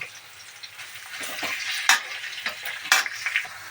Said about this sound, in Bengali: আমি এখানে পেঁয়াজ দিয়ে দিচ্ছি পঞ্চাশ গ্রাম মতো দিয়ে পেঁয়াজটাকে প্রথমে লাল করে নেব